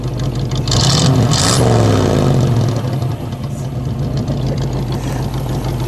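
A 1956 Chevrolet Corvette engine running and revving at close range, a loud steady rumble that swells in the first seconds and then settles into a constant idle-like drone, with no one talking over it.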